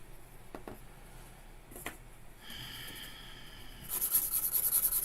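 A metal dip pen nib scratches and rasps across paper at close range, soft strokes at first, then a busier, brighter scraping toward the end, with no one talking.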